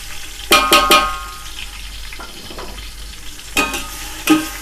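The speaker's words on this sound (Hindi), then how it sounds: "इसको हम थोड़ा सा भूनेंगे इसमें" Two tablespoons of garlic-ginger paste fry with softened onions in a pan, a low sizzle punctuated by a few sharp clanks and scrapes of a spoon stirring, with no talking.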